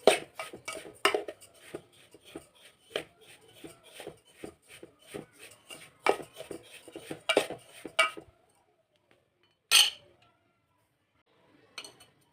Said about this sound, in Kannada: ಸೊ ತುಪ್ಪದಲ್ಲಿ ರವೆನ ಹುರ್ಕೋಬೇಕು